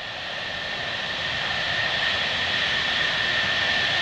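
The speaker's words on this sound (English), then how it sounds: "Caution, wait, turn, departing heavy C-135." Boeing C-135 heavy jet departing at Mildenhall, a steady loud jet engine roar that builds slightly over a few seconds with a sustained high whine, no talk.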